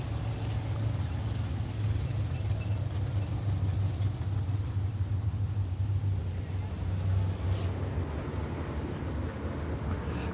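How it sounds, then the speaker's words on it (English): Several 604 late model race cars idle and rumble together at 411 Motor Speedway ahead of a 25-lap feature, a steady low engine drone at moderate distance with no talk. "604 late models coming to the front stretch for their 25-lap feature."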